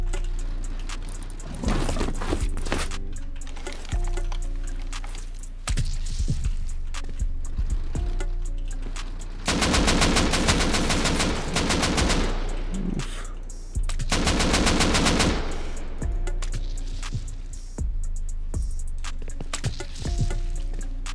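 Turret gunfire in a battle video game, firing from a second-floor position in repeated loud automatic bursts separated by brief pauses, close and dominant throughout.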